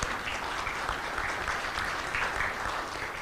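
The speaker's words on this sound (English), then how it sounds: "So let's all give him a round of applause." Audience applause for a newly tenured professor on an academic panel, a steady, moderately loud patter of many hands clapping with no talk.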